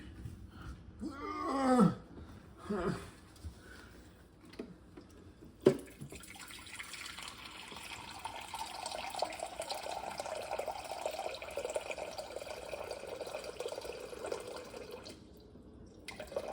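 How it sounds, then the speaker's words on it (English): Water pours from a large Brita filter pitcher into a container for sourdough prep, a quiet close trickle that swells into a steady stream lasting several seconds, preceded by a few faint clinks. "I'm gonna put 500 grams of water in it with my big ass freaking Brita filter"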